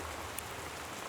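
Steady rain in the video game Gone Home, a dense even hiss of downpour filling the whole clip at low level, with no voices.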